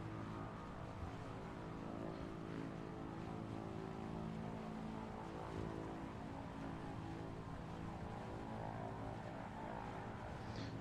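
Steady droning engine and propeller noise of a PZL Wilga light aircraft in cruise flight, a continuous even hum filling the cabin throughout.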